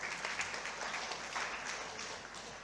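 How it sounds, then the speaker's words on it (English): Faint applause from a large audience at a conference inaugural session, a dense, even wash of distant clapping without pauses. "Please, ladies and gentlemen, give them a big round of applause."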